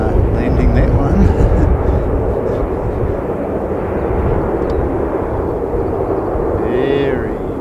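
A fixed-wing airplane coming in to land, a broad continuous rumbling roar that stays loud and steady throughout, with a brief faint voice near the end.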